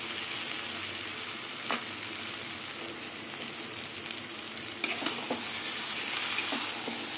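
Cabbage and shrimp sizzle and fry in a pan while being stirred, a steady crackling hiss with occasional louder scrapes and clatters near the end; no one speaks.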